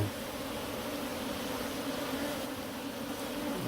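African honey bees, Apis scutellata, buzzing around an opened hive being inspected in Nairobi, a dense steady close-up drone with no voices over it.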